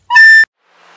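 A recorder plays a lower note: a short, clear tone of about a third of a second that cuts off with a small click, followed by faint background hiss.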